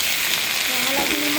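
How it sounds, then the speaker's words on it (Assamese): Onions and panch phoron spices fry in hot oil, giving a steady, close sizzle throughout with no talking over it. "পিঁয়াজ আৰু পাঁচফোৰণখিনি ভাজা হৈ গ'ল।"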